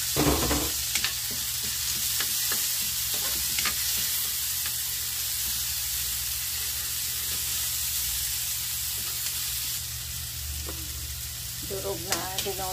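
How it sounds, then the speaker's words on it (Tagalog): Onion and garlic sauté with shrimp paste (bagoong) in a hot pan, a loud continuous sizzle with scattered spatula scrapes and clicks, steady throughout and without voices. "parang gigisahin lang natin"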